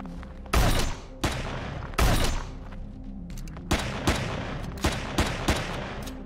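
An automated turret opens fire in the space game Empyrion Galactic Survival, with heavy booming bursts followed by a run of single sharp shots spaced about half a second apart, loud and near over a steady rumbling background.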